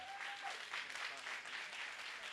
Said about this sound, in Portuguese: Palmas para a Bel